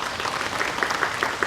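Audience applause at a residents' budget forum in Eunpyeong, welcoming a panelist to the stage; a steady, moderate wash of clapping from a seated crowd, fairly thin and even throughout.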